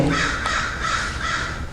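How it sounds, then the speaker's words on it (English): A crow caws repeatedly in a steady series of harsh calls, loud and fairly close, over an outdoor background with no talk. "the bird agrees"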